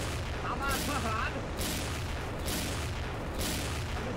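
Gunfire in the shooter game XSHOT, played in ghost mode, comes as a loud burst of shots repeating about once a second over a constant noisy background, with some voice mixed in.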